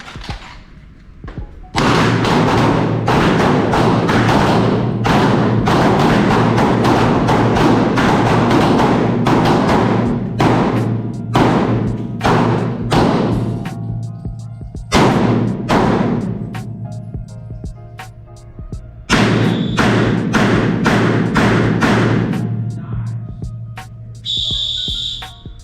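Handguns fire on an outdoor shooting range during firearms instructor training: a long string of loud, sharp shots in quick succession from several shooters, with a brief pause before a final rapid volley.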